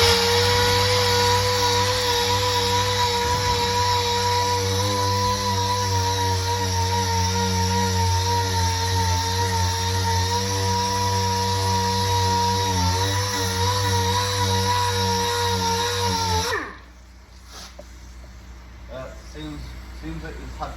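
Power sander with 180 grit paper grinds rust off a car body panel, a loud steady whine with strong tonal hum that runs continuously, then cuts off abruptly near the end, leaving quiet room noise.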